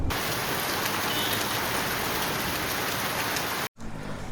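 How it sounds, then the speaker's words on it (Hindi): Steady, loud rain pours down outdoors on a road near Chandak, Pithoragarh in the hills, a dense continuous hiss throughout that drops out briefly near the end before resuming. "बरसात बढ़ चुकी है।"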